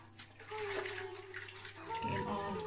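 Water splashes and runs while a skincare glove is re-wet under warm water, a close, continuous trickle-and-splash with a brief stronger burst near the end, with faint voice-like tones mixed in.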